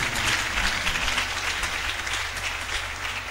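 A church congregation applauds, dense continuous clapping filling the room at steady loudness, without speech.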